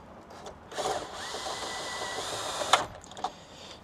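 A power tool drives screws into an old truck dash, a short whirring burst near one second, a quieter hum, then a sharp clack near the end.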